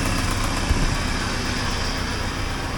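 A 1980 Triumph TR7 engine idling at about 950 RPM with an exhaust leak, a steady, even rumble close by and continuous for the whole stretch, with no talking.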